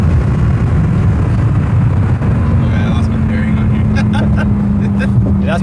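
Audi R8 with a new transmission control unit tune accelerating hard, heard from inside the car as a steady engine drone whose tone holds and slowly rises, with occupants talking excitedly throughout.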